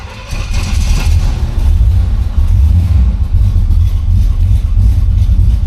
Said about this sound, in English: That's a cold start. As you can hear, she sounds like real strong.